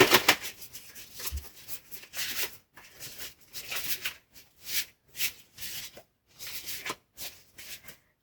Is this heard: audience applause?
no